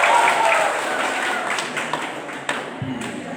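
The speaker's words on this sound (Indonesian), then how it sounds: "Sekali lagi mari kita berikan aplaus yang meriah." Audience applause at a speech contest entry during a campus anniversary event: steady mid-level clapping from a crowd, fading slightly, with a few sharper claps standing out.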